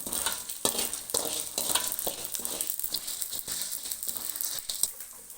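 Fennel, cumin and coriander seeds dry-roasted with rice in a pan for a mutton curry masala, a steady dry rustling and scraping with frequent small clicks as the mixture is stirred, fairly quiet.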